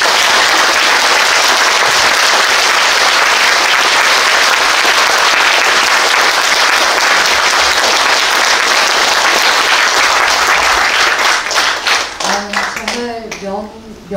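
Audience applause after a lecture at Yonsei University fills the room with dense, loud, steady clapping from a large crowd, which thins and fades toward the end as a voice begins to speak.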